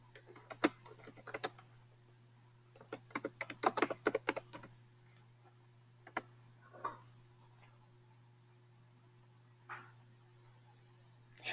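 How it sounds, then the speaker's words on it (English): Someone types on a computer keyboard during a seminar conference call: a dense flurry of quick key clicks, then a few scattered taps after a pause, close and clear over a steady electrical hum. "I'm assuming Kim is typing."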